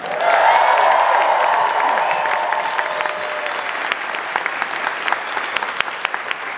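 An audience applauds at a Disneyland Haunted Mansion 50th anniversary panel, a dense, steady clapping that fills the room from the start and gradually thins and softens toward the end.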